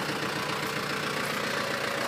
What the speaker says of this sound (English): This is my tractor.